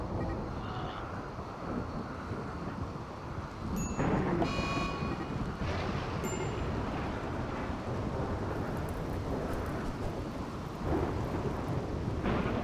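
Steady rain and rolling thunder from the video game Rimworld, a continuous dense downpour with louder rumbling swells near four and eleven seconds, no voices.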